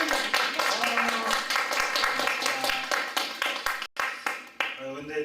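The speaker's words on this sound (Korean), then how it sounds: "박수로 환영해 주시고." A small lecture audience claps to welcome a speaker at a local activists' school, a short burst of clapping that thins out over several seconds, with a voice speaking over it.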